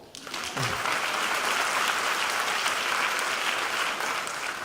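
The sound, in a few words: graduation audience applause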